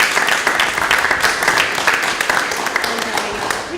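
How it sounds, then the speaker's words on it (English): A school board audience at an Act 46 public information meeting in Dummerston applauds, a dense, steady wash of many hands clapping at close range for a few seconds, with a murmur of voices mixed in. "I think a round of applause for those who have traveled from other towns and answered your questions"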